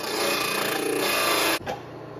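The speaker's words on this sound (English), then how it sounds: "Now I'll just kind of touch it up, maybe on the belt sander here." A belt sander smooths the edge of a freshly cut piece for an air intake on a VW bus with a Subaru engine, a loud close abrasive whir that stops abruptly and leaves a low hum.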